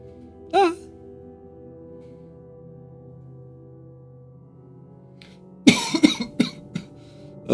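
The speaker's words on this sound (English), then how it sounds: "Still have a cough" A single short cough early on, then a cluster of several rough coughs near the end, close by over a low steady hum.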